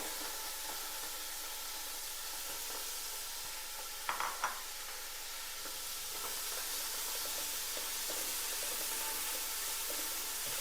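Chicken and onions fry in a pan for samosa filling, a soft steady sizzle with brief stirring clatters in the middle and a faint hiss throughout, and no voices.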